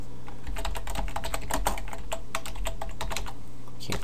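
Fingers type quickly on a computer keyboard while writing HTML5 code, a close, continuous patter of crisp key clicks over a steady background hum.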